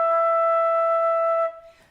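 A flute sounds a single sustained E natural, clear and steady for about a second and a half, then cuts off into a faint breathy tail.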